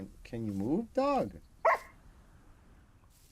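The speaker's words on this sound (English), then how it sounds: "Can you move, dog?" A Minecraft dog gives a few close barks and yips in quick succession, followed by a softer whimper and quiet background.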